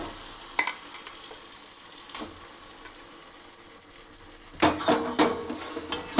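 Mutton pieces go into a pan of cooked-down spice masala, giving a soft background sizzle broken by sharp scraping and clinking from a utensil stirring against the pan, with several louder bursts toward the end.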